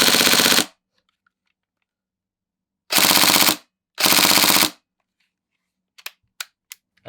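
A Tokyo Marui NGRS MP5 airsoft gun fires three loud full-auto bursts, each a rapid buzzing rattle under a second long, separated by silence, followed by a few faint clicks.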